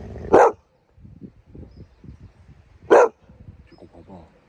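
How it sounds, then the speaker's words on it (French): A dog barks twice at an outdoor morning bivouac camp, sharp and loud, about two and a half seconds apart, while a person talks softly between the barks. "À chaque fois que tu vas aboyer, il y aura ton écho."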